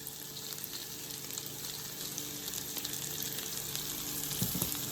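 Pork stir fry sizzles steadily in a hot pan, a constant crackling fry that grows slightly louder toward the end, with a few brief clinks near the close.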